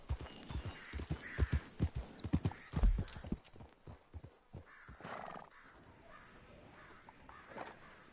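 Horse hooves clip-clop in a Red Dead Redemption Online game scene, an uneven run of close, sharp hoof strikes with a brief whinny, then fading into quieter ambient noise.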